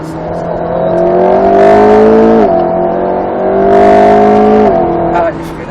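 An Alpine A110 S sports car engine on a circuit, a steady loud drone with a gentle rise in pitch under light throttle, briefly dipping and then building again, heard from inside the car.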